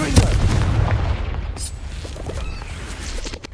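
A Confringo blasting spell from Hogwarts Legacy goes off with a sharp booming blast right at the start, followed by a fading rumble and scattered debris-like crackles.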